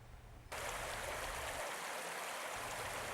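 Badgery Water flows beneath 17th-century stone Malmsmead Bridge in the Doone Valley on Exmoor, a steady close rushing stream that cuts in abruptly and continues as broadband water noise.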